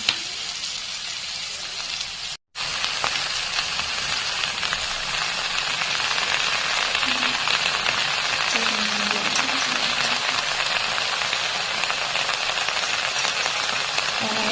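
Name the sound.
bottle gourd greens frying in a pan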